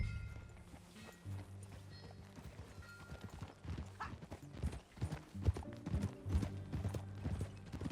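Horse hooves clip-clop in Red Dead Redemption 2, a steady trotting rhythm of close, fairly loud impacts that runs through the whole stretch, with an occasional whinny and low game ambience beneath.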